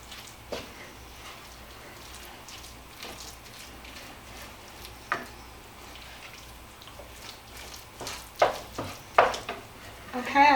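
Refried beans warm in a pan for a burrito casserole, with a soft steady sizzle under scattered scraping and clinking stirring strokes that grow louder and busier toward the end.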